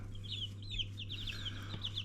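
Silkie chickens cluck and chirp softly in a steady run of short calls, heard at a moderate distance over a constant low electrical hum.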